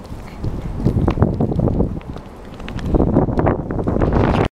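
Strong wind roars and buffets the microphone continuously, with rustling and thumping mixed in, briefly easing in the middle before surging again.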